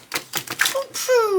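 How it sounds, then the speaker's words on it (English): A deck of glossy cartomancy cards, a reprint of the Folk Cards of Destiny, riffles in several quick papery bursts up close, followed by a brief bright tonal sweep. "these shuffle very nicely"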